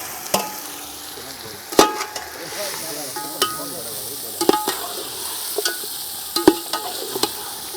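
A kilo of mutton fries in oil with ginger, garlic and chili powder for biryani, a soft steady sizzle broken by sharp scrapes and clinks of the spoon against the pan, close and without talk.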